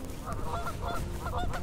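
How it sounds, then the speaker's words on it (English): Several geese honk near a river bank where someone is fishing for catfish in early spring, a north wind blowing; loud overlapping honks come in repeated bursts close to the microphone. "hey, shut up, geese"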